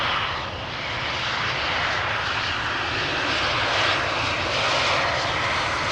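An Embraer 190 airliner arriving at Amsterdam Schiphol from London City roars steadily overhead, a loud continuous jet engine rumble and whine held throughout with no voices.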